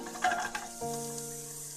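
Carrot, capsicum, potato and green peas stirred in a frying pan for vegetable pulao; a few scrapes of the spoon against the pan, then a steady soft sizzle.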